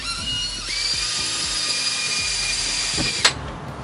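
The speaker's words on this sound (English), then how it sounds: "take your drill, find the center, and start drilling" Power drill boring upward through the steel roof of a 2022 Ford Transit Crew Van AWD for a roof fan, a steady high whine with grinding as the bit cuts, ending in a sharp snap as it breaks through.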